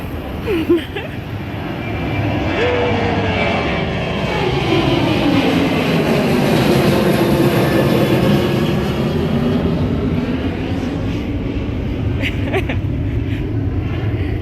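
A loud aircraft roars overhead in Montego Bay, Jamaica, its engine noise swelling and sustained with a sweeping, shifting drone as it passes close by.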